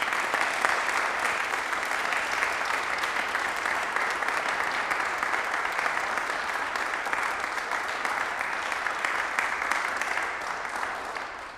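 Sustained, dense audience applause for honored seniors at an NHS induction and service awards event, steady and full throughout before tapering slightly at the end.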